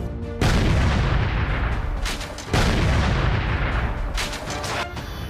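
Heavy gunfire and loud blasts at a counter-terror encounter in Kashmir, two booming onsets followed by sustained rumbling fire and crackle, dense and close throughout with no talk.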